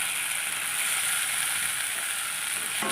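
Spice masala with coriander leaves frying in a pan, a steady, close, even sizzle and crackle with no voices.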